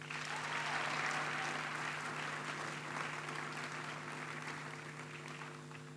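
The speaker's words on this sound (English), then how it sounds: "So please, a round of applause for them" A graduation ceremony crowd delivers a sustained round of applause, broad even clapping filling a large hall over a steady low hum, gradually tapering toward the end.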